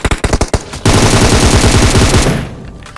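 Rapid automatic gunfire in a PUBG-style battle royale game, a few quick separate shots followed by a long, loud sustained burst that fades near the end.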